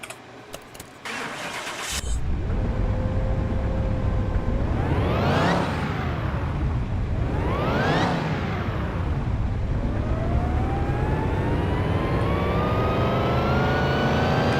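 A supercharged V8 in Car Mechanic Simulator 2021 cranks and starts after a couple of clicks, then revs up and down twice in strong sweeping surges before settling into a steady, climbing drone, loud and close.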